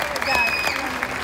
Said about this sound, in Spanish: Fuerte el aplauso, amigos.